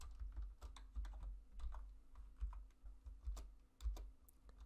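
Code is typed on a computer keyboard in a quiet room, giving quick, faint, irregular key clicks in a continuous run over a low steady hum, with no voices.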